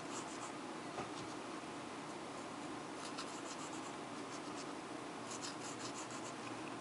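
Pencil sketching a border on paper for a mixed media tag, steady scratchy strokes with short bursts of quicker scribbling, close and fairly quiet, no talking.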